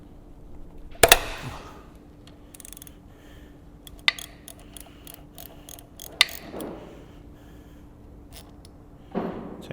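Ratchet with a 12mm socket backing a brake line banjo bolt off the master cylinder of a GSXR motorcycle: sharp isolated clicks and metallic ticks at close range, scattered across a quiet shop background with no talk.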